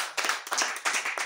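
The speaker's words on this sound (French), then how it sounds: "Applaudissez pour elle." A few sharp hand claps in an uneven rhythm at a church gathering, close and moderately quiet, with the congregation applauding for a woman.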